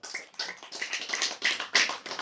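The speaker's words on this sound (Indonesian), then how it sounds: "Tepuk tangan dong" An audience at a religious lecture claps hands together, a dense, steady patter of many palms in rolling waves lasting a couple of seconds, fairly close and without talk.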